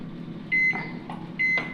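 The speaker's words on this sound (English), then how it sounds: "So we are alternating the stirring and putting back in the microwave so that it does not burn." A microwave oven hums steadily while melting chocolate, with two short high beeps sounding a second apart over the drone.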